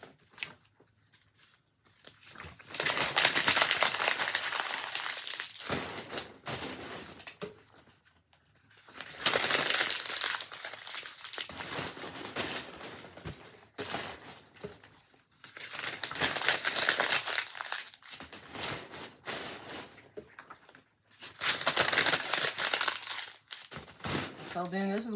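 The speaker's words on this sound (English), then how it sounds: "Ball up more paper and just put it on top" Balled-up paper crumpled by hand and stuffed around a jar of sea moss gel packed in a shipping box, crackling in four long, loud bursts separated by short pauses.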